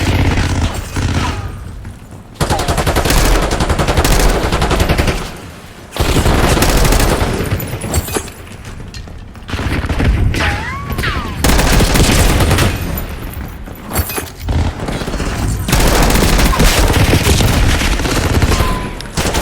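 Gunfire in the video game Call of Duty Warzone (Black Ops 6), dense and loud, with rapid automatic bursts and booming shots in long sustained volleys broken by brief lulls.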